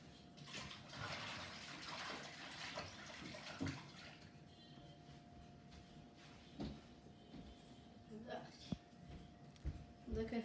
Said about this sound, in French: Je vais aller me rincer les mains parce que c'est dégueulasse